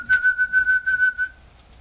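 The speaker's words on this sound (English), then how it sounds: "dog comes in, as if you call it with that weird whistle" A person whistles indoors to call a dog, a single steady high note warbling in several quick pulses for about a second and a half, close and alone.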